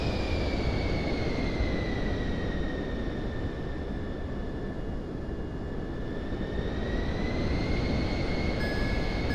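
A simulated airplane engine in Microsoft Flight Simulator 2024 hums steadily, a faint broadband drone topped by a thin, steady whine that dips slightly and rises again, with no talking.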